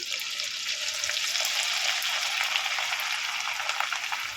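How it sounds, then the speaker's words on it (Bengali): Raw rice fries in hot oil held in a strainer, a dense, even crackling sizzle that stays steady and close throughout with no voices. "এই ছাঁকুনির সাহায্যে চালটাকে ভাজলে সুবিধা হবে তুলতে তেল থেকে এইভাবে ভাজবেন"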